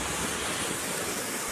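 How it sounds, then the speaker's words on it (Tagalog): A loud, continuous rush of floodwater from an overflowing creek along a road, broad and roaring without a break, like a strong torrent flowing close by. "Rumaragasa ang tubig sa kalsadang ito"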